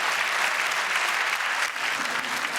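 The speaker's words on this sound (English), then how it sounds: "A few people clapping." Comedy club audience breaking into applause during a stand-up set, a continuous close wash of clapping that stays loud throughout.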